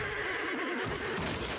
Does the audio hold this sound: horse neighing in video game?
yes